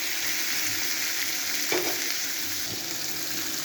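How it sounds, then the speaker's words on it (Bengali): Potato and green banana chunks sizzle steadily in oil in a pan, with a brief scrape of a spatula stirring them partway through; no voices. "একটু নেড়ে চেড়ে ভেজে নেবো কিছুক্ষণ।"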